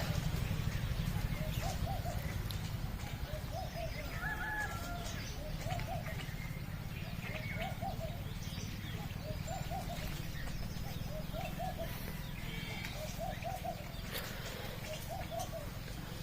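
Birds call repeatedly in the background at a cremation ground, soft cooing phrases recurring every second or so over a steady low rumble of ambient noise.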